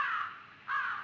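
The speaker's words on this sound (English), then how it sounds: "Ah, it's just a crow. Stupid bird." A crow caws twice inside a video game, two drawn-out rasping calls separated by a brief gap, fairly close and heard alone.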